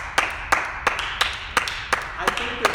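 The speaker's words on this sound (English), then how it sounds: "A couple claps for raccoons." A few people clap for raccoons in a small group: eight or nine sharp, separate claps land at an even, steady pace, fairly close and alone with no talking.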